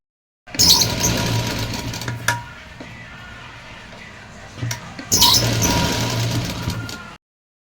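A sewing machine runs a straight seam on a small dress for a Laddu Gopal idol, in two loud whirring bursts with a quieter stretch of lower hum between them, no talking.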